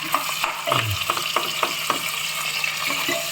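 Tomatoes tossed into a hot pan for sambar rice and stirred: loud, close frying sizzle with quick scraping and clinking strokes of a spoon against the pan throughout.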